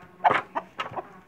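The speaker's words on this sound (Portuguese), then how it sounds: "Olha o tamanho dessa galinha." A giant Índio Gigante hen weighing about ten kilos clucks close by, giving four or five short, throaty clucks in an uneven burst over a quiet background.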